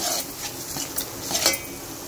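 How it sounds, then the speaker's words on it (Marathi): Masala for mutton rassa being stirred and roasted in a pan with a splash of mutton stock, giving a steady sizzle with scraping spoon strokes and a couple of louder clanks near the end. "मसाला भाजून घेऊया"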